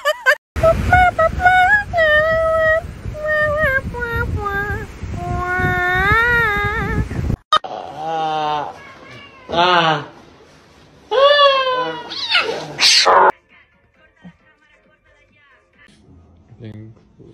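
A cat meows and caterwauls loudly and close up, first in long, wavering, drawn-out wails, then in shorter yowling cries with brief gaps, before trailing off into near silence.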